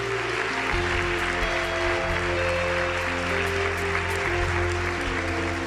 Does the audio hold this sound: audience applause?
yes